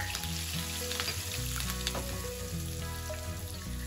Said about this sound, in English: When the oil is heated, add jeera for the tempering.